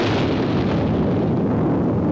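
The first nuclear bomb test in the desert at dawn, a 21-kiloton blast: a loud, sustained deep rumbling roar that fills the whole span without letup.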